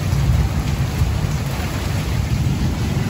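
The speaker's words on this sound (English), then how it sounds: "Pretty big storm going on here." A heavy thunderstorm in Richland Hills pours steady, loud rain, with low rumbling thunder rolling continuously underneath and no voices.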